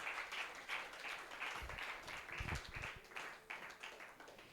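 Steady applause from a church congregation during a sermon, a soft continuous patter of clapping with a few louder claps, heard at a distance.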